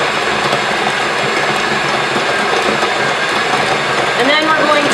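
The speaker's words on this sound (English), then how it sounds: "mixing our butter in the mixer" Electric stand mixer creaming a cup of butter for red velvet cupcakes, a steady loud mechanical whir with a gritty grinding texture running throughout, and faint talk underneath.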